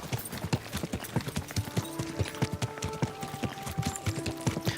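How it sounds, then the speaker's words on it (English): Horse hooves clip-clop in a steady, quick rhythm in Kingdom Come Deliverance 2, loud and close, a continuous run of sharp thuds over faint game ambience with no talking. "Easy, good horse."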